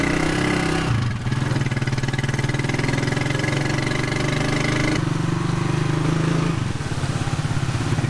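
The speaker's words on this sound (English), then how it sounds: "Taking a little cute trike into town today." A small motor trike engine runs steadily and loudly up close, its throbbing note shifting pitch a couple of times as it revs.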